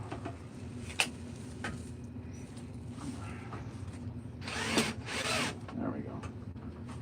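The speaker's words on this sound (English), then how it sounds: "My drill's just dying. I knew this battery was low, I thought." Cordless drill with a low, dying battery punching a hole, a faint labored whir that strains and swells briefly, under low room noise and nearby talk.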